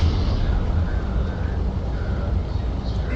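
The Clipper ship's engines in Star Citizen lug along with a continuous deep, rough rumble while a voice talks over the drone.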